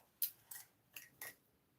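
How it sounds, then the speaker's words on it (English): Scissors cut through card in four short, crisp snips spaced about a quarter second apart, close and quiet in an otherwise silent room. "so I'm going to cut that off"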